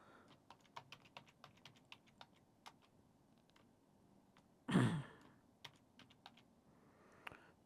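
Java code being typed on a computer keyboard: steady, quick clicking keystrokes close by in a quiet room, with one louder burst partway through.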